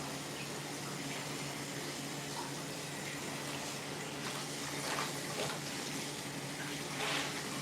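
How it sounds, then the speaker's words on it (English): A cleaning rag rinsed under a running tap: a steady hiss of flowing water with soft splashes and sloshing surges as the cloth is worked in the stream, fairly close and continuous. "Gotta rinse this rag so I can keep cleaning with it."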